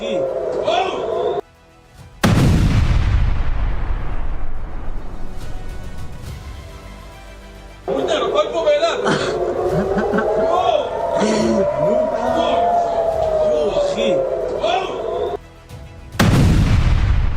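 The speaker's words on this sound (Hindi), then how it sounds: "एक भीषण धमाके की आवाज आती है" Two heavy booms from Israeli bombing in Lebanon burst out loudly, each trailing into a long rumbling decay, with a stretch of wavering voices or wailing between them.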